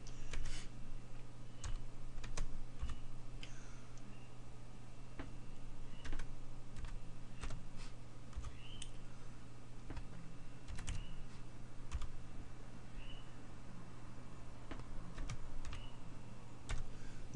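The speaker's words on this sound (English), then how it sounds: "So I type in TRACERT space and then put the IP in." Someone types on a computer keyboard at a command prompt, producing scattered close key clicks in irregular bursts over a low steady hum, with no talking.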